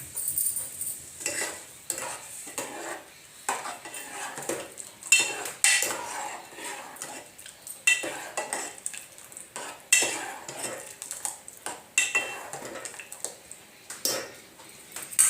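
Soaked sago pearls tipped into a pot of boiling water and stirred, with a spoon scraping and clinking against the pan in irregular bursts and a soft bubbling beneath, close and moderately loud with no talking.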